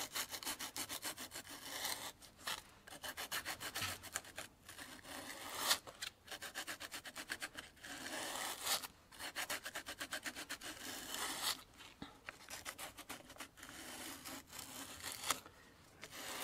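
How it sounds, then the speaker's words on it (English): Light hand-sanding of bicycle drum brake shoe lining on a Gazelle roadster, a close, dry rasping in repeated short strokes with brief pauses between passes. "So next I'm going to sand the brake shoe material lightly."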